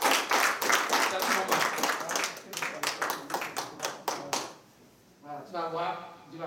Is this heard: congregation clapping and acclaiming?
yes